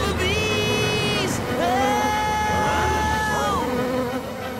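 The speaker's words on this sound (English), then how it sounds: "Bees!" Cartoon swarm of bees buzzing in a busy, wavering drone with rising and falling pitch, loud and continuous over background music.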